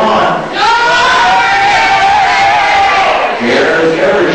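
A packed crowd in a bar, J.R.'s Beverage Room in 1990, cheers and hollers loudly in a sustained roar of overlapping voices, dipping briefly and then surging again.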